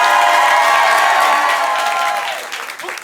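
An improv show audience in Paris claps in a full, loud burst that gradually thins out and fades over a few seconds, with a faint cheer mixed in.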